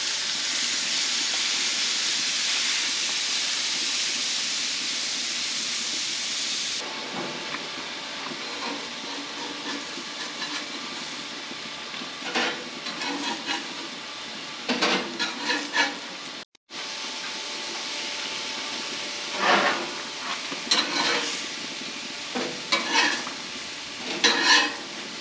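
Pompano fish frying on a flat iron grill outdoors, a steady loud hiss that drops to a softer sizzle, with scattered clanks and scraping of tools and brief bursts of louder crackle.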